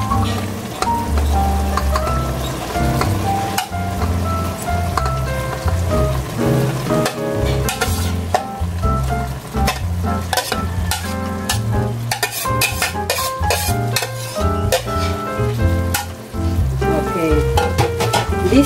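Mung bean sprouts are stir-fried in a pan while cooking with oyster sauce and mixed vegetables, giving a steady crackling sizzle with scraping and tossing clatter, all under loud background music.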